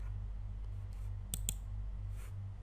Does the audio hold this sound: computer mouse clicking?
yes